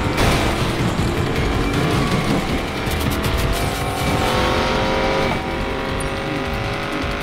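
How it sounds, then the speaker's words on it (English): Car engine in the Need for Speed Payback racing game, roaring loudly and continuously with a steady growl, with hints of tire squeal along the way. "when you step on the gas and the engine growls to life for a second"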